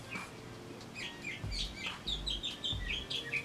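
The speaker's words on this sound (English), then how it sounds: "I don't know where the bird is, but it sounds close." A small bird chirps close by outdoors, repeating short bright tweets in a quick irregular series over a quiet background, with no talk.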